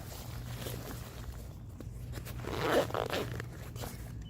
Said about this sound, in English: The way to get inside the pack, there's a zipper on each side.